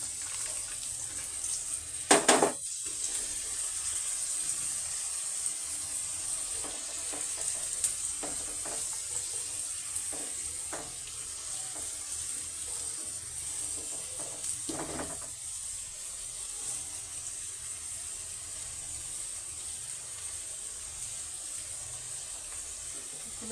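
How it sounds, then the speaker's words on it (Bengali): Vegetables frying in a pan, a steady, fairly quiet sizzling hiss that continues throughout, broken by a few louder clatters and stirring scrapes. "আমি সবজিগুলি এখানে সব দিয়ে ভেজে নেব।"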